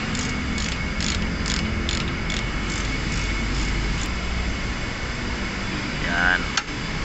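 A hand ratchet tightens brake caliper bolts in a workshop, with a close, rapid run of metallic clicks in quick bursts over a steady mechanical hum that then fades to background noise.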